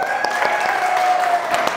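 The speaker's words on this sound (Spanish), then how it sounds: "Un aplauso." Audience applause at a live event, a steady wash of clapping across the whole stretch with a sustained tone running beneath it.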